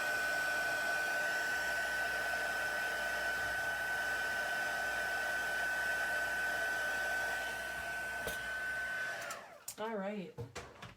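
A heat embossing tool runs steadily for about nine seconds, a constant close whirring blow-dryer hum with a thin whine, melting embossing powder at a stamping craft table, then shuts off as a voice briefly speaks.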